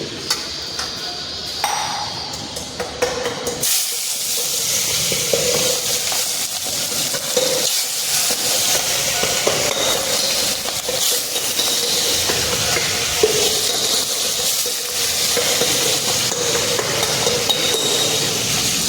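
Fish frying in hot oil in a home kitchen, a continuous close sizzle and crackle with occasional metallic pings and clatter of a spatula throughout.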